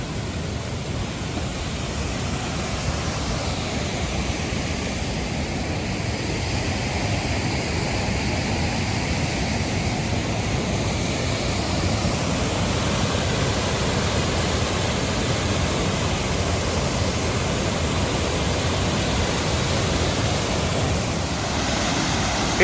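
A waterfall in the ravine of the West Branch of the Ausable River, behind Wilmington Notch Campground, sends up a constant broad roar of rushing water, close and full, unchanging throughout and without voices.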